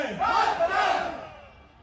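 A large crowd shouting a slogan in unison, a loud roaring chant that swells and then fades out.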